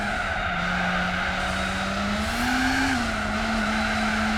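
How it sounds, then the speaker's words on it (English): In Gran Turismo 4, a race car's engine drones loud and steady with a sustained tire squeal from wheelspin under acceleration, the pitch rising briefly then settling. "there is a wheel spin though that you can hear when you're trying to accelerate after braking at the certain corners"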